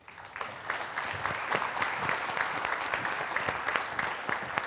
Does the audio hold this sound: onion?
no